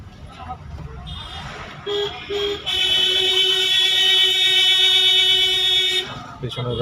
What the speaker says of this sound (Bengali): পেছনে গাড়ি হর্ন মারছে।